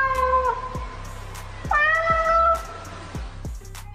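A cat meows a few times up close, the calls clear and drawn out over a low rhythmic thumping in the background.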